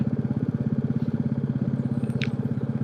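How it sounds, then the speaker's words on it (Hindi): A motorcycle engine-brakes on a rainy mountain road, its motor giving a steady, rapid low throb at close range, with faint scraping and clatter over it and no talk. "अभी खाली बस इंजन ब्रेकिंग"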